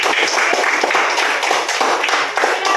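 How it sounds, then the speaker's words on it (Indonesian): A room full of people claps in a dense burst of hand claps, lively and close, lasting a few seconds. "Tepuk tangan dulu"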